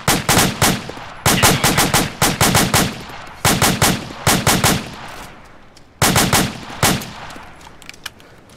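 Automatic gunfire in the military video game ArmA 2, several sharp rapid bursts of machine-gun fire with short pauses between them, loud and close, with no talking.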